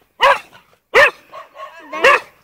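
A small dog barks three times in short sharp yaps, close by, with softer whimpering yips between them and no one talking.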